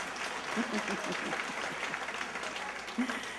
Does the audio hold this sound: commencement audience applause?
yes